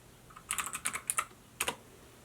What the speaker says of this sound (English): So I'm going to type in size inclusive swimwear